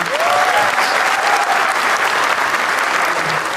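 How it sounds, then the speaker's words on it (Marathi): Steady, loud applause from the audience at a Marathi stand-up comedy show fills the room without a break, with faint crowd murmur beneath. "एकदा टाळ्या वाजवा दोघांसाठी"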